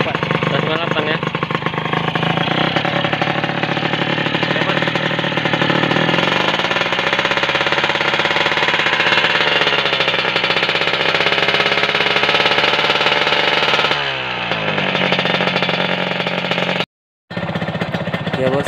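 A 1998 Kawasaki Ninja motorcycle engine runs loudly and continuously nearby, its pitch rising and falling as it revs, then cuts out briefly near the end.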